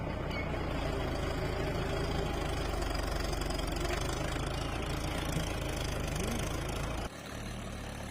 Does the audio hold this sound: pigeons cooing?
no